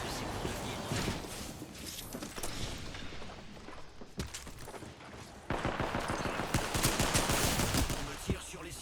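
Continuous gunfire rattles in an Apex Legends match as the player is shot at, dense bursts of rapid shots layered with mechanical game effects, loud and sustained throughout, with a voice talking underneath.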